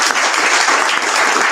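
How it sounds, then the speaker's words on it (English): An audience applauds at the closing plenary session of a youth global-leadership conference, dense sustained clapping that fills the room evenly with no voices over it. "Now there's applause."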